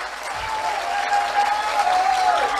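Audience clapping at an Islamic sermon during a haul commemoration gathering in Pasuruan, a steady, dense wash of many hands held for a few seconds, close and loud, with a faint sustained tone running underneath.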